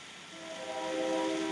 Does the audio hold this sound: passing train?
yes